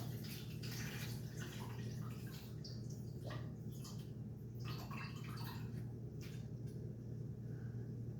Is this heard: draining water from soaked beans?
yes